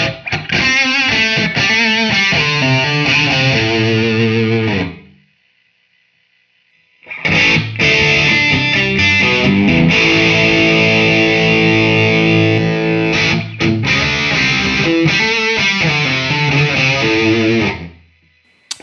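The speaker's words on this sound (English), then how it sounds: "So some nice reverb, obviously very exaggerated right now." Distorted electric guitar phrases drenched in heavy, exaggerated reverb, with long washy tails; a brief pause splits two loud passages.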